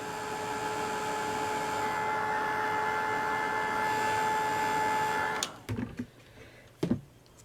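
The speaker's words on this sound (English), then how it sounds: "I'll whack the dryer on it" A hair dryer blows on wet paint, giving a steady whirring hum for about five seconds before it switches off, followed by a few quiet clicks and knocks.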